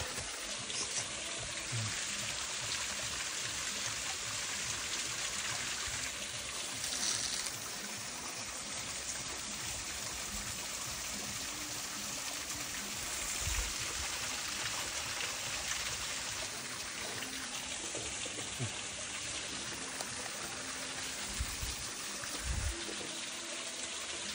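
Water of a stream flowing in Shivapuri Nagarjun National Park, a steady, rushing trickle that holds at an even level throughout, with a few soft bumps and faint sounds of people nearby.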